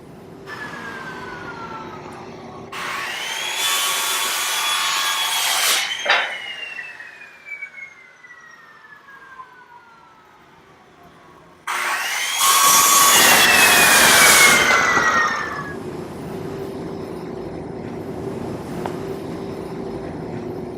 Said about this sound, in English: These boards are marked and ready to be cut for both the advanced and bumblebee house, and we're going to get those cut and be right back.